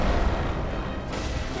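Booming gunshot from a firearm in the dark fantasy action game Bloodborne, fired during a boss fight. A heavy, loud blast that fills the short moment with rumbling low end.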